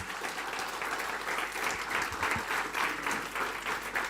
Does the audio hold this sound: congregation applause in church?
yes